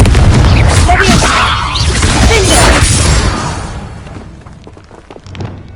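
Confringo blasting curse explosion in a Harry Potter video game: a loud, close boom with a whooshing blast that rolls off and fades over several seconds into a quieter tail.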